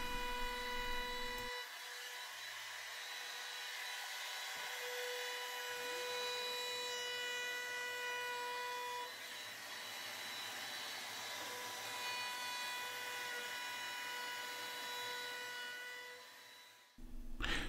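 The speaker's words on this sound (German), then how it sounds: "Anschließend mit der Oberfräse und einem Bündigfräser fertiggestellt." A wood router fitted with a flush trim bit, milling workshop stool parts, whines steadily at high pitch for most of the stretch, loud and close, with no talking.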